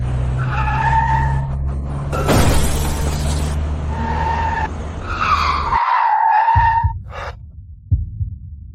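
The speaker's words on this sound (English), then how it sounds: "Why would a perfectly good brand new tire Suddenly blow out for no reason?" A car tire blows out and the car skids, with a sharp bang followed by a long screeching skid over a low engine rumble, loud and close, with squealing tones near the end.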